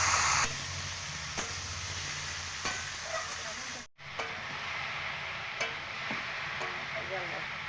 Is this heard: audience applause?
no